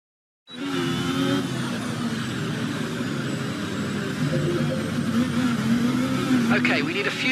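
F1 24 race car engine drones steadily through laps in the video game, a continuous high whine with slight pitch shifts that starts abruptly after a short silence and rises near the end, with speech likely present underneath.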